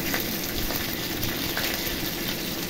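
Dry red chilli halves, a bay leaf and cumin seeds tempering in hot oil, giving a steady, close, continuous sizzle with no pauses and no voices.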